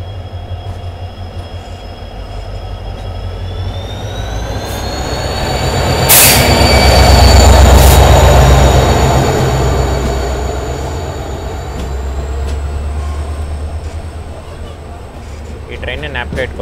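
A brand-new LHB Basava Express passenger train runs the Yesvantpur–Vijayapura route with a loud, continuous rumble, high wheel squeal and a swell of noise mid-way, while muffled voices of passengers sound underneath.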